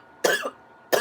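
A person coughs twice in quick succession, a harsh burst, a brief pause, then another sharp cough, close and fairly loud.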